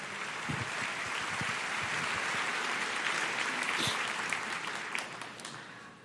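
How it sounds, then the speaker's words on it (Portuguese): A church congregation applauds the Lord with a sustained wash of many hands clapping, close and steady for about six seconds before tapering off at the end. "Aplauda o Senhor"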